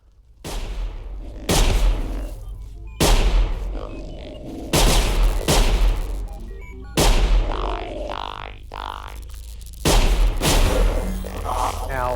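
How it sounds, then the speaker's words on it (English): Loud booming gunshots from the video game Sir, You Are Being Hunted fire in repeated bursts, each blast followed by echoing rumble, with game sound effects in between. "The game does have loud gunshots"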